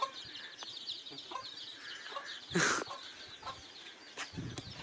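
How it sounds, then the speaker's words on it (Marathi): Free-range village chickens cluck softly in the background amid faint outdoor noise, with one louder squawk near the middle. "इकडे कोंबड्या दिसले मला"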